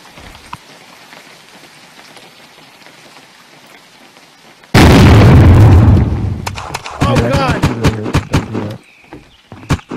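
Gunfire in the survival game Unturned, a sudden loud burst followed by a rapid run of sharp, separate shots cracking out one after another over a quiet background.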